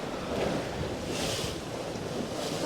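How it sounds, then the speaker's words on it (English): Waves wash against a sailboat at sea over the Shingles Bank heading for Portsmouth Harbour, a loud steady rush of surf mixed with strong wind buffeting the microphone. "There was a bit more wave action on the Shingles Bank than I think either of us expected this morning."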